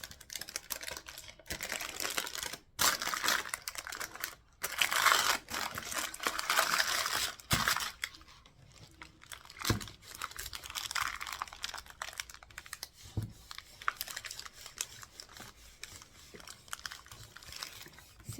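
A paper napkin is rolled around a candle while decorating it, giving soft, intermittent crinkles and papery rustles. Small taps and handling noises come in close, uneven bursts with brief pauses between them.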